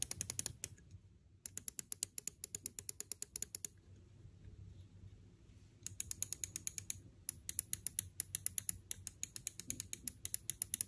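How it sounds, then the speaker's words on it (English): Rapid, repeated left and right button clicks on a Finalmouse Starlight 12 Achilles gaming mouse in long runs, sharp and close, broken by a few quiet gaps and sparse single clicks near the end. "Now let's listen to the sound of side buttons."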